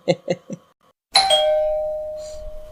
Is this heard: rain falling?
no